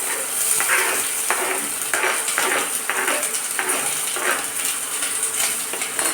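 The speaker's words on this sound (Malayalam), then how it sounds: "കടുക് പൊട്ടിക്കഴിഞ്ഞ് ഇതിലേക്ക് സവോളയും പച്ചമുളകും ചേർത്ത് കൊടുക്കാം" Onions and green chillies fry in coconut oil in a pan after mustard seeds have popped, giving a loud, steady sizzle with repeated scraping of a spoon against the pan.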